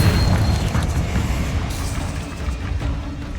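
A Confringo spell explosion in Hogwarts Legacy erupts as a heavy booming rumble that starts loud and slowly decays over a few seconds, close and dense.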